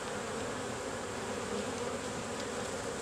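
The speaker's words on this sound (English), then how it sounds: "look at all those bees. This is a good colony." Honey bees buzz in a dense, continuous drone during a September hive inspection of a strong colony, loud and close with no pause.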